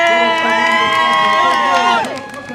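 Spectators cheer and whoop loudly at the finish line of the 2024 Warwick Half Marathon as a runner comes in, a dense, sustained crowd roar with shouting voices that eases slightly toward the end.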